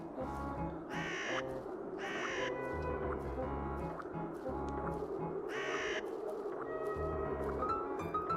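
Crows caw repeatedly in a garden scene from The Whispered World adventure game, with harsh calls coming in irregular bursts over a steady bed of background ambience and music.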